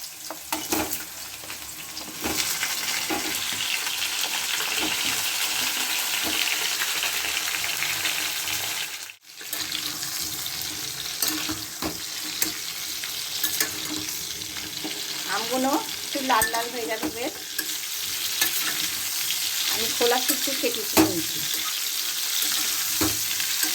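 Raw mango pieces fry with five-spice seeds in hot mustard oil for a Bengali chutney, giving a loud, continuous close sizzle with stirring scrapes throughout, broken by one brief pause and faint background voices later on.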